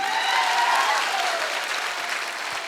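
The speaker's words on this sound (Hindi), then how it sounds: "मैं चाहूंगा हमारे सभी गुरुजनों के लिए एक बार शानदार ताली होनी चाहिए।" Applause in an auditorium for teachers at a Blue Diamond AWPL event in Samastipur, Bihar, a broad, loud wash of clapping from a large crowd that stays steady and eases slightly toward the end, with a whistle above it.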